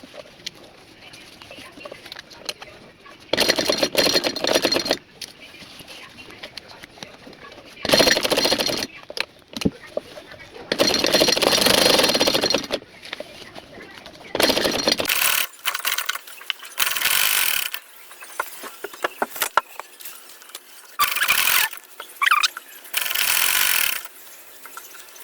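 A sewing machine stitches folded saree pleats in loud, broadband bursts of mechanical whirring. They run from one to several seconds and alternate with quieter gaps of handling.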